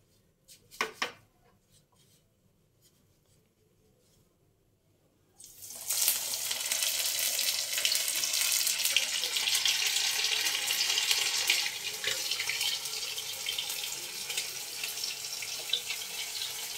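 Bombay duck fish cutlets coated in biscuit crumbs drop into hot oil. After a quiet stretch with a few faint clinks, a loud, steady, broadband sizzle takes over and continues to the end.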